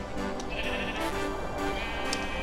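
Snow sheep bleating in the video game Zoe's Lab 2, a few wavering calls repeated over a steady, busy game background, fairly loud and close.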